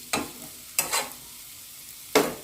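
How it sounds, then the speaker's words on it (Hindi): Green peas being roasted in masala in a pan, heard as three separate bursts of stirring and scraping with a soft sizzle between them, fairly close and with no voices. "ग्रीन मटर को भी अच्छे से भूनेंगे थोड़ी देर इसमें मसाला में"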